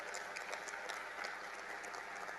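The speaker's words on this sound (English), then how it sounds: "Let's give a round of applause." Steady audience applause at a formal ceremony during the India Japan Annual Summit 2017, heard as even, distant clapping throughout.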